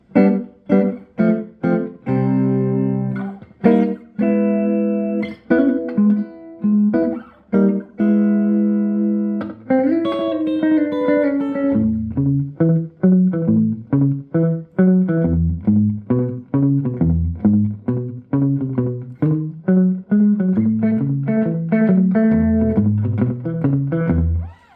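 Clean electric guitar plays picked notes and short phrases, each followed by a quick, subtle single echo that thickens the attack.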